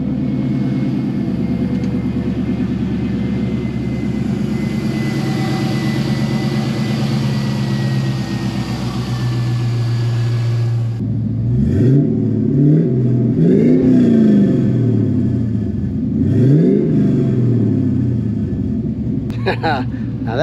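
A resto-modded 1968 Camaro with an LS1 swap idles with a deep, lumpy rumble, then is revved several times in sharp rising and falling bursts, loud and close, with someone talking over it.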